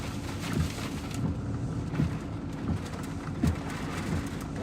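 Hurricane Idalia's roaring wind, sustained around 70 mph with gusts above 100, a dense continuous rush with low rumbling surges, steady and fairly distant-sounding, with no voices.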